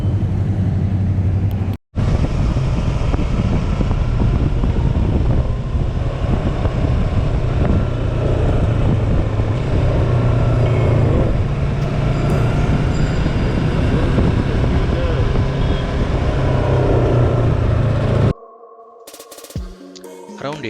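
Dense Delhi road traffic heard from a moving motorbike, a steady loud roar of engines and wind noise that runs continuously before cutting out near the end.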